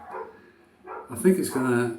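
Dogs next door bark in short bursts, one yelping and whining, with a brief pause between barks and a voice briefly heard.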